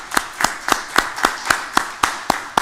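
Press conference audience applauding in steady rhythmic claps, about ten evenly spaced claps in under three seconds, close and clear with no talk over them.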